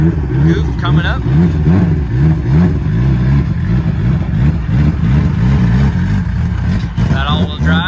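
An all-wheel drive vehicle's engine drones steadily and loudly as it drives up onto a trailer, with a low rumbling hum throughout and people talking over it.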